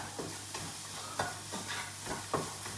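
Chopped ginger fries in a pan with a constant soft sizzle, while a utensil scrapes through it in a regular stirring rhythm of about one stroke every half second. Close but quiet, with no speech.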